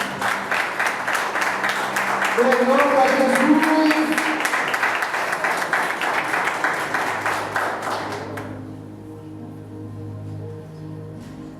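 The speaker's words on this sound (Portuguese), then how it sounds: "E pode aplaudir o Senhor nessa noite?" A church congregation applauds steadily and loudly during an evening service for about eight seconds, then the clapping stops abruptly and a voice speaks over quiet background sound.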